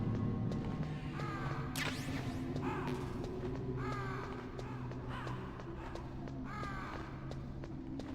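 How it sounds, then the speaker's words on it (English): Crows caw repeatedly in a video game, several harsh calls spread across the clip over a steady ambient background, with no talking. "They are crows. They aren't friendly."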